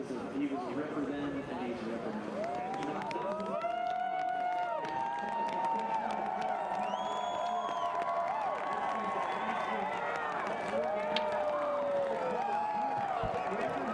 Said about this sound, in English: you can see the ovation that he's getting from the crowd